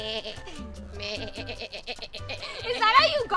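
A person gives a wavering, nasal bleat imitating a sheep, with brief chatter and a chuckle around it.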